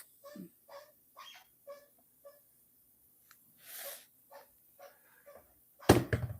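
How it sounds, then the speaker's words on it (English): A dog chews a squeaky toy, squeaking it in short, rapid bursts, about a dozen high-pitched squeals in uneven rhythm, ending with a louder, harsher squeak. "If you can hear a squeaky toy dying in the background"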